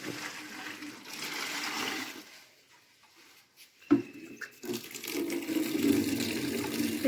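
Water poured from a bucket onto garden plants on a sunny day, a continuous splashing gush that breaks off briefly, then resumes with a sharp slosh and keeps streaming.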